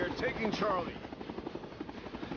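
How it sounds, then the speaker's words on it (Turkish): A helicopter in Rising Storm 2: Vietnam thrums with a loud, steady rotor beat that continues throughout, with someone speaking over it near the start. "Ee, helikopter."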